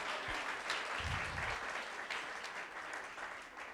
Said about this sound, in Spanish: Un aplauso, porfa.